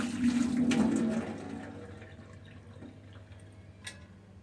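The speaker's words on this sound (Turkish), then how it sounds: "Sıcak suyu çalkaladıktan sonra şu şekilde döküyoruz." Hot water pours out of a Stanley Classic vacuum thermos in a short, splashy gush lasting about a second, then tapers to faint drips and quiet.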